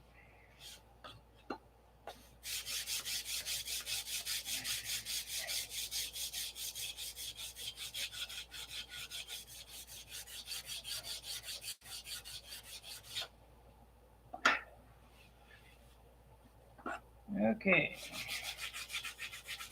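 Fine-grit sanding pad rubbed steadily over the flaps of a P-47 model, a continuous close rasp lasting about ten seconds, then brief scrapes and light handling noises with a short spoken word.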